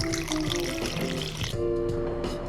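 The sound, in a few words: pouring Absolut Peppar vodka into drinks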